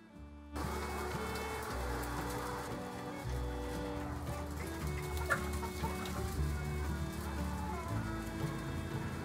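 Chickens on a free-range farm cluck softly and repeatedly against a steady hum and a faint patter, with scattered calls from several birds in a quiet setting.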